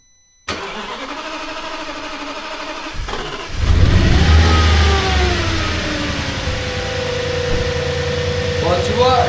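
An Audi S6 V10, its fuel circuit de-primed after a high-pressure fuel pump replacement, cranks steadily for about three seconds, then catches with a loud rising rev that settles into a steady, close idle.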